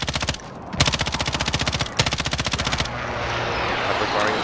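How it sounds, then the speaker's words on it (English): Automatic weapon fire in the Call of Duty: Modern Warfare video game, two sustained rapid bursts of close, loud shots with a brief gap between them, then a wash of noisy rumble. "Oh, somebody's shooting us."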